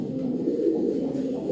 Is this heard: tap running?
no